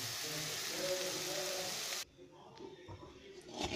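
Egg fried rice sizzles loudly in a hot pan right after the rice goes in, a dense frying hiss that cuts off abruptly midway, leaving quieter clatter and faint room sound.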